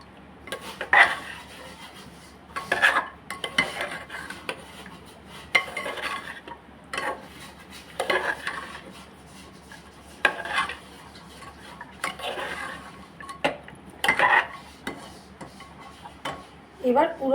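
Chickpeas with ground garam masala are stirred in a pot, a spoon scraping and clinking against the metal in repeated bursts about every two seconds over a quiet background, with no talk.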